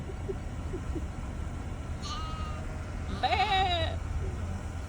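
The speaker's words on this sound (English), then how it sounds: "Baby sheep's on the road." Baby sheep on a road bleat twice, a short call and then a louder wavering one, over a steady low engine or road rumble.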